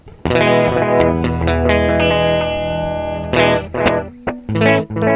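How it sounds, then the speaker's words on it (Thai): An Electro-Harmonix Tone Tattoo analog delay pedal with feedback turned up repeats distorted electric guitar notes, loud sustained chords trailing into echoing repeats, then shorter staccato plucks with decaying tails. "ฟีดแบ็ก็คือจำนวนโน้ตตามนะครับผม ถ้าเราปิดจะได้1โน้ต เป็นมาตรฐานของดีเลย์อยู่แล้วนะครับผม"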